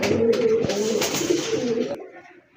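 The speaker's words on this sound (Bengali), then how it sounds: "এটা হচ্ছে চকলেট দমের বিগ সাইজের দানি একটা মাদি কবুতর" A big-sized female pigeon of the chocolate dom variety coos in a short, low, throaty burst, close by, with faint background chatter and a sharp knock near the end.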